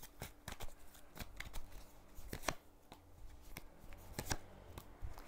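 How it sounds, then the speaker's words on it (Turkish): A tarot card is drawn from a deck during a reading, giving a series of quiet, crisp card snaps and shuffling flicks spread irregularly through a faint room. "Buraya da bir kart daha çekelim."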